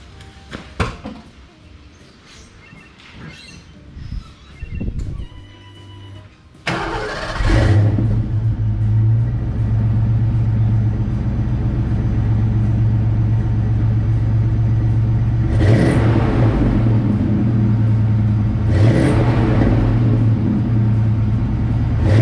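A Fox-body Ford Mustang GT 5.0L with a Flowmaster muffler and small 2 1/4 inch tailpipes starts after some handling noises, then settles into a loud, deep rumbling idle close by, with two sharp throttle blips later on.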